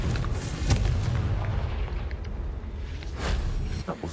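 In the Hogwarts Legacy video game, the fiery Confringo explosion spell goes off in rumbling bursts with booms and crackles, loud and close, alongside some voice sounds.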